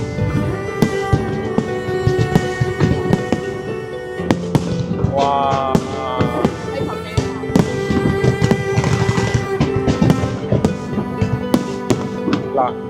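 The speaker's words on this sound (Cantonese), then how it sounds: "就係咧煙花匯演" A Lunar New Year fireworks display in Meizhou sends out rapid, loud bursts and crackles in a dense, continuous barrage, with people exclaiming now and then beneath the blasts.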